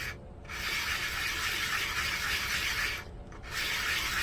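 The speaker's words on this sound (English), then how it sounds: "Now I sand in circles." A 3D printed propeller part is sanded in circles, a close, steady abrasive rubbing that breaks off twice in brief pauses before resuming.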